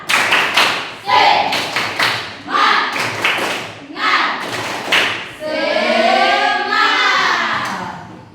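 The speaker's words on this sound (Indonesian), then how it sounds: "Coba tepuk semangat 2 kali." A class of students performs a rhythmic clapping chant twice, sharp claps in quick patterned bursts mixed with shouted voices, ending in a longer cheer of many voices.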